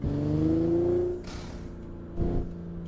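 A Toyota Supra MK5 in a racing simulator game revs up, its engine note climbing in pitch and then easing, with a second shorter surge near the end; steady and close with no talking.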